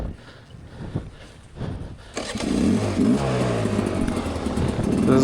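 A dirt bike engine on a steep hare scramble hill climb, ridden from the rider's seat, is quiet and rough at first, then fires into a loud, sustained revving drone that climbs and wavers to the end.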